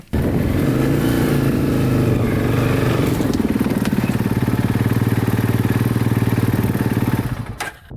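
A quad ATV's engine runs steadily during a test ride, first a loud, rough rumbling drone, then settling into a throbbing, pulsing rhythm before fading slightly at the end; close and continuous, no voices.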